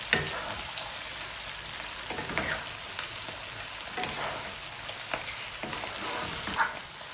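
Okra (bhindi) frying in a pan for a masala bhindi, with a steady dense sizzle and occasional scraping clicks as it is mixed, close and without talk.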